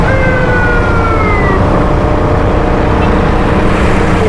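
A police-style siren on an auto rickshaw wails and sweeps down in pitch over loud, constant road and engine noise, fading as it goes.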